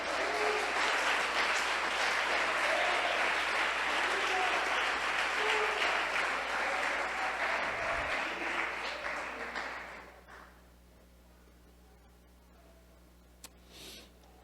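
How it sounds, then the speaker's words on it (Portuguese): A church congregation applauds, steady crowded clapping filling the hall for about ten seconds before stopping abruptly, leaving a quiet room with a few faint taps. "Se alguém entendeu, aplauda a Jesus."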